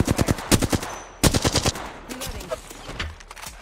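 Automatic gunfire in a video game rips out in rapid bursts, loud and close, with a brief pause between volleys before a softer trailing section.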